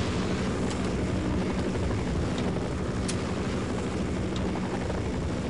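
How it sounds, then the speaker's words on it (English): A helicopter in the horror video game They Hunger roars in flight with a dense, steady rotor and engine wash, loud and unbroken, with occasional faint clicks on top. "There's no way this helicopter would keep flying."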